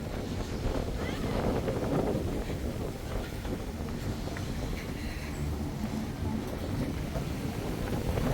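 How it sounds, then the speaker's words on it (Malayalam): Steady outdoor wind rushes and buffets a microphone throughout at the Langkawi Sky Bridge, a broad, continuous roar with faint voices in the background. "കാറ്റുമുണ്ട്."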